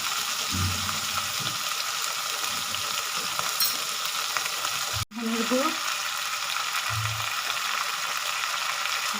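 Spices with turmeric, salt and Kashmiri red chilli powder frying in a pan for a Bengali potato fish curry, a steady close sizzle with occasional stirring scrapes and a brief break midway.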